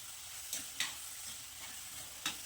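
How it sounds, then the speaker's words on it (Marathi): Onion and tomato mixture stirred in a pan for misal, soft steady sizzling with a few sharp scrapes and clicks of the spoon, quiet and without talk. "कांदा आणि टमॅटो पुन्हा सारखं एकसारखं हलवत राहा हे मिश्रण"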